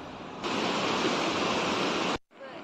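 Bhagirathi river flowing beneath a wooden footbridge, a loud, steady broadband rush of water filling the clip, cutting off briefly near the end before resuming.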